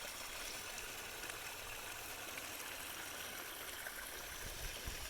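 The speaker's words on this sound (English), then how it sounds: "we have a little bit of a seasonal Babbledy Brook here coming through the place. One of our seasonal drainages with a nice little waterfall here." A small seasonal brook spills over a little waterfall about eighteen inches high, giving a steady, even rush of water that fills the whole stretch without pause, fairly faint and with no voices.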